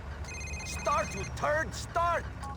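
A telephone rings while someone is driving, its ringtone sounding in three short, warbling bursts over low, steady road rumble.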